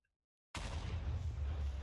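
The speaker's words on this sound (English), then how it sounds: "So it absorbs the explosion, right?" Explosion in the Minecraft Botania mod, a sudden loud blast after a moment of silence, followed by a sustained, deep, rumbling roar that continues to the end.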